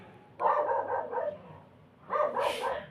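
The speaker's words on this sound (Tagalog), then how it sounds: "tumatahol yung mga aso sa labas" Several dogs bark outdoors in two loud bursts of rapid, overlapping barks separated by a quieter pause, the second burst ending in a high yelp.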